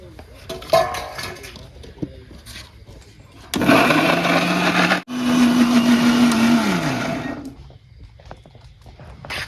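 A kitchen mixer grinder whirs loudly for a few seconds, briefly stops, then starts again grinding tomato gravy, with a steady tonal motor hum under the grinding; quieter kitchen clatter comes before and after.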